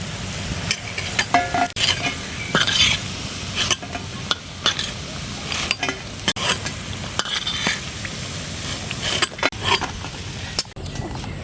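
Poppy seed fritters (posto bora) frying in hot oil give a steady close sizzle, with scattered clinks and stirring scrapes of a utensil against the pan.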